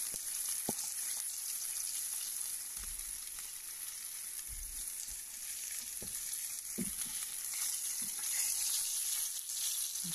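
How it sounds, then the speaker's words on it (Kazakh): Fish sizzles in hot oil with a constant crackling hiss, broken by a few scattered pops and light clinks. "Жақсылап бір жағын 5-6 минут қуырамыз."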